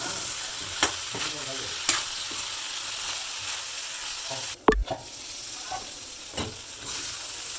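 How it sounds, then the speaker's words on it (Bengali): Eggplant pieces fry and get stirred in a pan with dried ribbonfish, a steady close sizzle punctuated by sharp spatula scrapes and clacks against the pan. "তারপর বেগুনগুলো দিয়ে দিতে হবে তারপর আরও চার পাঁচ মিনিট কষিয়ে নিতে হবে ভালোভাবে"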